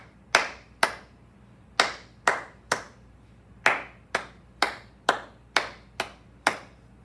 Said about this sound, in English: Let's start with some clapping.